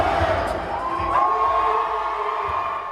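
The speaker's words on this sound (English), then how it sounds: "They are cheering as a world record in freestyle rap was set today in Ross Township" A crowd at a Pittsburgh-area event in Ross Township cheers and whoops continuously as a freestyle rap world record is set, loud and sustained with mixed shouting voices.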